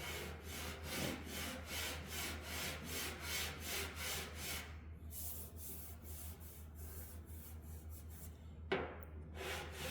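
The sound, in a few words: fingers rubbing over fresh car clearcoat paint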